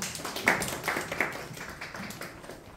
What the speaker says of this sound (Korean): 하나님께 영광의 박수 올려드리겠습니다